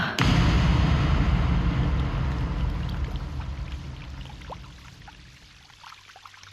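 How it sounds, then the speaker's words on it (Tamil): Water is poured steadily onto a plant, a close, loud splashing stream that gradually tapers and fades over several seconds, with no speech. "சரி, நான் உனக்கு தண்ணி ஊத்துறேன்."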